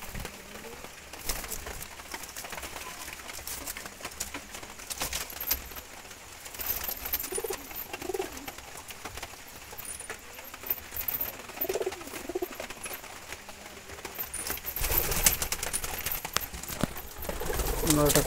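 Jalali wild pigeons coo in soft, low, repeated calls, faint within a steady bed of background noise while a person talks over them.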